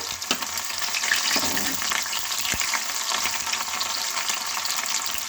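Ginger frying in hot oil gives a loud, close hiss and crackle, broken by a few sharp stirring knocks against the pan.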